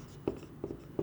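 A pen writes amounts on paper during a current ratio calculation, with three short scratchy strokes at a steady rhythm, close and moderately quiet, and no talking.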